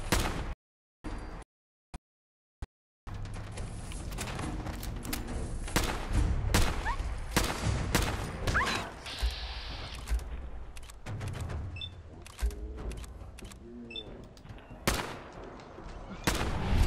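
Dense, loud bursts of gunfire in modded Fallout 4, a few isolated shots and then sustained rapid automatic fire with booming impacts, continuous and close, with no talking.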